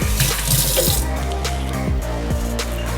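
Water drains and trickles off freshly washed fish, a steady close splashing stream like a running tap, with faint clinks in the background.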